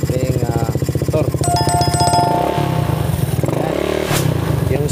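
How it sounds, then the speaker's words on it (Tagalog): A Honda Beat Fi motorcycle engine, just repaired after a grounding fault, idles loudly and close by with a steady low putter and a brief higher whine and clatter partway through. "Okay, maandar na yung ating motor."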